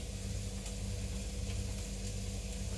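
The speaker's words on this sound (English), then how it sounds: "So the onions here are getting nice and brown." Onions warming in a pan for mushroom lentil burgers give a steady, soft sizzle with a low constant hum beneath, continuous and unbroken throughout.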